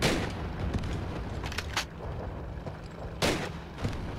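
Hip-fired weapons in a Call of Duty World War II campaign battle in Altavilla crack out in irregular loud bursts, with a couple of sharp nearby shots standing out over the rumbling background fire.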